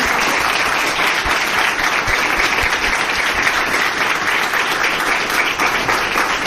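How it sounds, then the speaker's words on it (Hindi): Loud, steady applause from an audience at a company leaders' event, honouring a speaker: thick continuous clapping from start to finish with no talking over it. "एक बार जोरदार तालियां"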